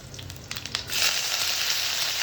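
Curry leaves and green chillies frying in hot oil in a pan, a few soft crackles and pops before a sudden bright, steady sizzle swells and holds, close and without talk.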